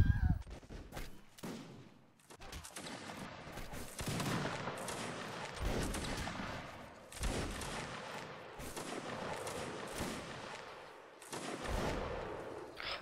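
Musket volleys crackle in a Napoleonic Wars multiplayer line battle, with ragged bursts of gunfire repeating every second or two, fairly faint and distant throughout.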